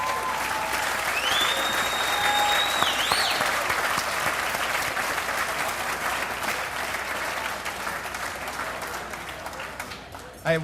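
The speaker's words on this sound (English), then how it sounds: "I think we ought to give a round of applause to the selection committee" Steady, loud audience applause at a polo hall of fame induction ceremony dinner, a sustained wash of clapping from a large room with a few whistles early on, tapering slightly toward the end.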